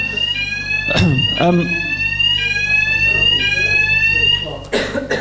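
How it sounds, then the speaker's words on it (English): A loud fire alarm sounds steadily with a high electronic tone, while a person speaks briefly over it. "That would be the 3 o'clock fire alarm."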